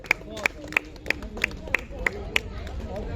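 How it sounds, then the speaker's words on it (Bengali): Claps ring out at a neighbourhood Saraswati Puja prize-giving, eight or so sharp, evenly spaced, close claps over a murmuring crowd, with voices chattering underneath. "জোরে হাততালি।"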